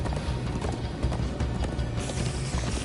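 Horse hooves clip-clop in a rapid galloping rhythm during a chase in Minecraft Story Mode, with an occasional whinny over a busy game soundtrack.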